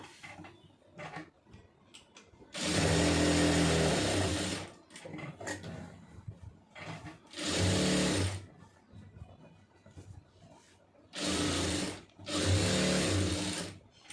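An electric sewing machine stitches fabric in four separate runs of fast, loud motor whirring and needle chatter, the second and third shorter, with quiet pauses and faint handling clicks between them.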